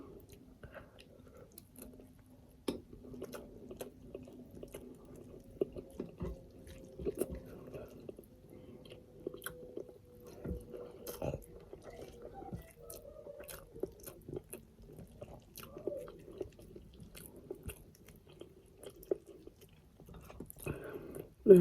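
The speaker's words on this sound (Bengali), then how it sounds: "পাকনা পাকনাগুলো খাইতে বেশি মজা লাগে" Someone chews and eats a cooked country rooster curry with rice. The close, quiet mouth sounds are wet and squishy, with soft bites repeating irregularly and faint murmurs now and then.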